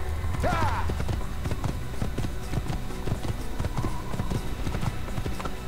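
Horse hooves clop at a fast gallop in Assassin's Creed, a quick steady rhythm of close, distinct thuds under game ambience, with a brief whinny near the start.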